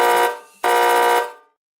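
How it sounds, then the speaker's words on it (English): A loud, harsh electronic buzzer sounds twice in quick succession, a short blast then a longer one that fades out, close and alone. "That's your buzzing noise."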